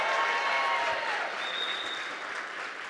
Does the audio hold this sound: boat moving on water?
no